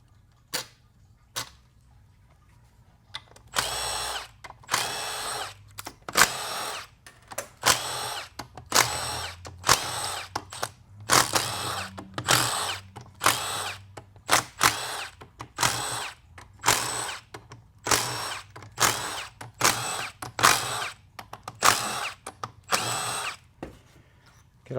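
A power drill spins out 10 mm bolts from a 4L80E transmission teardown, a close run of short, repeated whirring bursts, each a second or so long with brief gaps, continuing steadily throughout.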